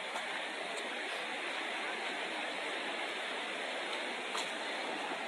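A swollen, muddy river runs high after a night of rain near a broken bridge, giving a steady, broadband rush of flowing water that stays even and continuous throughout, with no talking.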